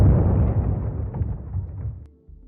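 A deep rumbling blast from a nuclear explosion opens at full strength, then rolls and crackles as it slowly fades over a couple of seconds, ending with a low, dull residual rumble.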